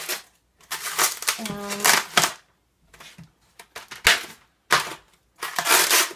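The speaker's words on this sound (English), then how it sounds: "So carefully break the tape" Packing tape is snapped and peeled off the parts of a NEVERknead unit in short, sharp crackling bursts separated by pauses, close by, with someone speaking briefly among them.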